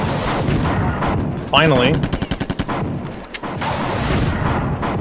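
Rapid gunfire in the shooter game Marathon Infinity: a loud burst of evenly spaced shots in a quick rhythm, with a voice talking before and after.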